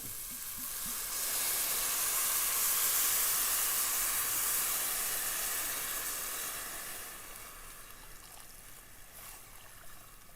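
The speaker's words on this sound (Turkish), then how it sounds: "Ve onu yaklaşık böyle 40 dakika, 45 dakika kadar kendi halinde kaynamaya bırakacağım" A pot of rice in plenty of salted water left to simmer on the stove gives off a steady, close hiss of steam and bubbling that swells in the middle and then eases, with no talking.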